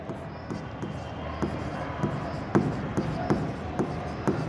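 Chalk or marker taps and scrapes across a classroom board in short, irregular strokes, close and distinct, between stretches of teacher speech.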